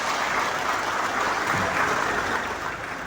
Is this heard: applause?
yes